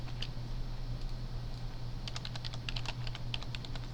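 Quiet computer keyboard typing, a short run of soft key clicks over a steady low hum, with a brief tap early and then a denser patch of keystrokes.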